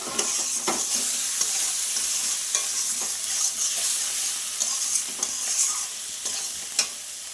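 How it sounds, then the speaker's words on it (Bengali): Spice paste sautés in a pan with a constant bright sizzle, broken by repeated scraping and clinking from stirring, for a fish roe dish with fried potatoes. "এবার মশলাটা আমি ভালো করে কষিয়ে নেবো"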